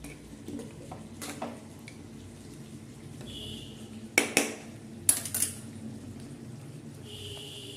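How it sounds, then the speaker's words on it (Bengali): A spoon stirring ghee into khichuri in a pot, giving sparse metallic clinks and scrapes against the pot, quiet and spread out with short gaps between them. "এবার আমি 1 চামচ মতো ঘি মিশিয়ে দেবো এতে"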